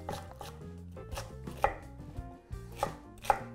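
Celeriac sticks chopped roughly with a knife on a board, a run of close, uneven thuds with a few sharper, louder strikes, no voices.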